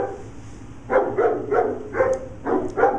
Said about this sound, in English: And Jack is barking at the cat.